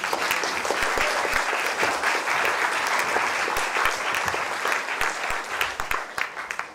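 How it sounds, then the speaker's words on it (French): An audience at a CNES conference on the planet Mars breaks into sustained applause, a dense, full patter of many hands that holds steady and thins slightly toward the end. "Vous pouvez les applaudir."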